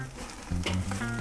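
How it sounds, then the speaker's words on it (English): Porterhouse steak searing on a grill in burning grease, giving a brief crackling sizzle with a few sharper pops partway through, no talking. "That grease is burning."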